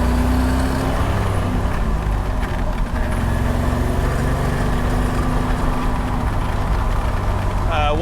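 A 1967 Corvette with an LS3 engine and Tremec transmission runs steadily through its gears, a loud continuous engine drone with cabin rumble and smooth transitions, heard from inside the car.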